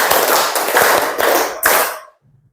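A quick run of five or so handclaps from a group playing a clapping game, loud and close in a steady rhythm, the last clap sharpest before fading to near silence.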